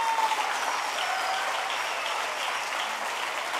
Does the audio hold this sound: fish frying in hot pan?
no